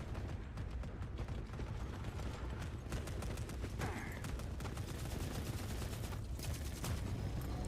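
Distant gunfire in The Forever Winter, with many weapons shooting at once in a continuous, rattling fusillade of rapid cracks and bursts over a rumbling background, faint overall.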